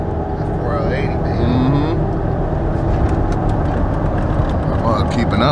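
A truck with a 4080 transmission and 6.0 engine drives steadily from inside the cab, its engine drone rising and dipping as gears shift, with people talking over the continuous road noise.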